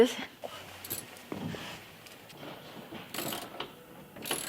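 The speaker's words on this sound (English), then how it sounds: "And you learn how to use a ratchet now." Ratchet wrench clicking in short bursts while a Challenger's 440 engine is stripped, the mechanical ratcheting fairly quiet and intermittent with people talking nearby.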